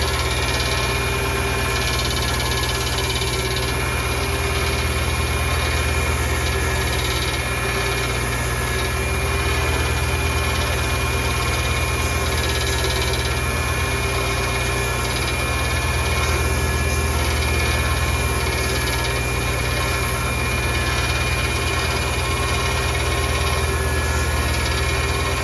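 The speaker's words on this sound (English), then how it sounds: "This is another 1-inch belt sander" A 1-inch belt sander grinding a stainless steel ring runs as a loud, constant whine and rumble throughout, steady and unbroken, with no talking over it.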